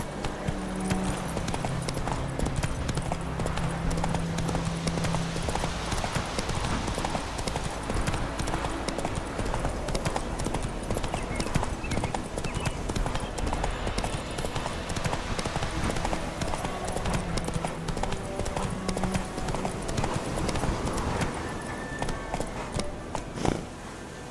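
A horse gallops in The Witcher 3, with rapid rhythmic hoofbeats clip-clopping steadily and loudly for the whole stretch over game ambience.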